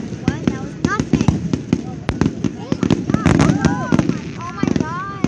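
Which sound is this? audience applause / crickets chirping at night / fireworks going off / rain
fireworks going off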